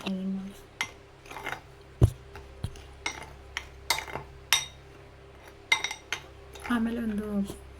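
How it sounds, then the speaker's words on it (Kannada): Ingredients are stirred vigorously in a bowl, with a spoon clinking and scraping the sides in a fairly regular series of close, bright knocks over a low background hum. "ಇಷ್ಟೊಂದು ಚೆನ್ನಾಗಿ ಮಿಕ್ಸ್ ಮಾಡ್ಕೊತಾ ಇದ್ದೀನಿ ನೋಡಿ"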